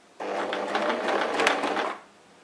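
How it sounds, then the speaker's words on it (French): A sewing machine stitches fabric in one close, steady whirring burst of rapid needle clatter, lasting just under two seconds before stopping. "Dès que vous commencez à coudre, faites quelques points avant, puis faites-en directement quelques points arrière avec la manette marche arrière"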